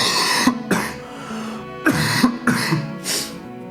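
A person coughs and clears their throat in a short series of harsh bursts, close and moderately loud, with no talking.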